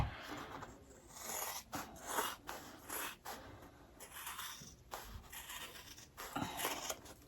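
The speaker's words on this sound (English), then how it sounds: "I'm just going to cut this excess off" Scissors trim excess fabric off a sewn zipper bag, a series of crisp snips and rustling fabric, close up and quiet, coming in uneven bursts.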